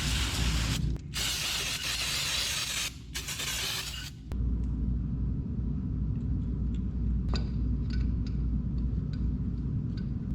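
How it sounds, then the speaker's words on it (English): Brake cleaner hisses from an aerosol can in bursts, sprayed onto an engine part from a 1976 GMC being overhauled, then gives way to a low rumble with light ticking clicks. "I just like to spray it down with brake clean in case there's any oils on it anywhere."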